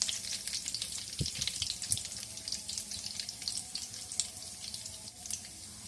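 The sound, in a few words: button red chilies and curry leaves frying in oil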